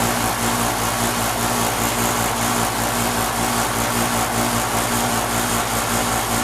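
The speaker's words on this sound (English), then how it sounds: "It's a heat pump from 2000." An old 3.5-ton Carrier heat pump from 2000 running in cool mode at a vacant house, a loud steady mechanical hum and fan drone that holds constant throughout.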